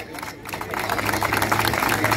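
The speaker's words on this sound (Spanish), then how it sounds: "un aplauso" A crowd at a motor festival tribute in Los Realejos claps and cheers, dense applause building and rising in intensity, with voices mixed in throughout.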